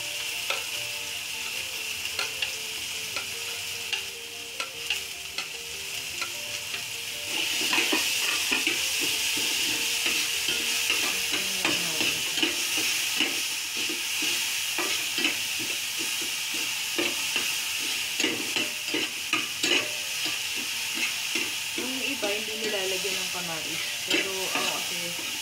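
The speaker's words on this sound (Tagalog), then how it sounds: "Tapos yung onion, garlic, ginger. Pwede naman natin isabay-sabay na para hindi masunog." Onion, garlic and ginger sauté for spicy pork binagoongan, giving a steady, close sizzle and hiss. A spoon scrapes and stirs through it with repeated taps, and faint voices occasionally come through under the frying.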